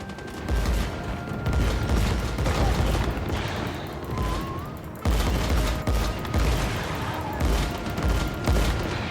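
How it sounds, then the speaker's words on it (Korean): Sustained gunfire in the video game Once Human during a boss fight, dense continuous volleys with bursts and booms filling the scene at steady loudness, with no talking. "총 쏴!"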